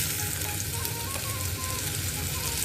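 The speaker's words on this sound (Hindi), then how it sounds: "ई सबटा सजमनि के हम तैर के निकालि लै छी पहिला" Chayote slices fry in hot oil, giving a steady, dense sizzle that stays even and close throughout with no talking.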